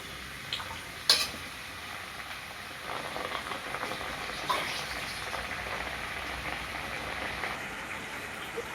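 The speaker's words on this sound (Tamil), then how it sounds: "அந்த மசாலாலாம் பச்சை வடை போக கொதிக்கட்டும்" Tamarind water with masala boiling in a pot for brinjal kadaisal, a faint steady simmer with soft bubbling and a few stirring clinks, heard alone at low level.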